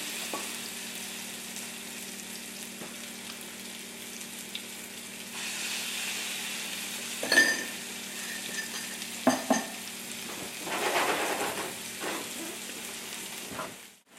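Frikadeller meatballs fry in a pan at medium heat, giving a steady low sizzle with a few louder spatters and stirring or scraping bursts partway through. Nobody speaks.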